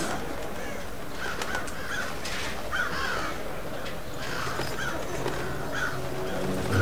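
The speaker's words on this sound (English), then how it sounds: "Birds are getting agitated." Agitated crows caw repeatedly from the rooftops in the stealth video game Thief, several harsh calls spread over steady ambient background with no talking.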